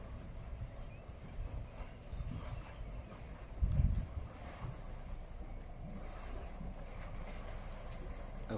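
A heavily loaded sailboat motors out of a harbour against the wind, a steady low rumble with wind noise buffeting the microphone and a brief thump partway through, without any voices.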